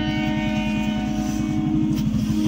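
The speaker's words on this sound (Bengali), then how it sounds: "ট্রেন আইতাছে" A train approaches with a steady, loud rhythmic rumble and clatter of wheels, continuous throughout with no talking.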